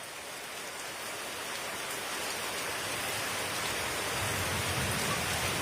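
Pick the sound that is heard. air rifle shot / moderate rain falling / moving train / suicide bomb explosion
moderate rain falling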